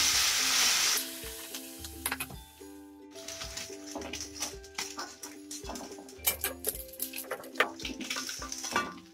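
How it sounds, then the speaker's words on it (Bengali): Small puti fish fry crisp in oil in a kadai, crackling and sizzling close by while a utensil stirs and clinks against the pan, the hiss loud at first then settling into bursts of spatter. "এমনি করে মাছগুলো কড়া করে আমি সব মাছ ভেজে নেব।"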